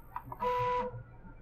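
Stepper motor of a Titan 1 resin 3D printer lowering the build plate by one millimeter, a brief steady whine with a clear tone lasting under half a second, close and alone.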